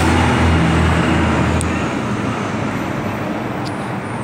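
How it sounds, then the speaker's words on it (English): Heavy trucks roar past on a road in Colorado, a loud continuous rumble and hiss of traffic that swells and slowly recedes, heard close with no talking. "lots of loud trucks."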